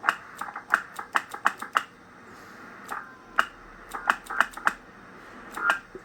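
A Yaesu FT-101 ham radio transceiver clacks in a series of sharp, dry clicks, about a dozen irregularly spaced taps over several seconds, close and fairly loud against a quiet background.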